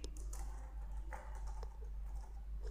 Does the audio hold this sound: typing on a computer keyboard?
yes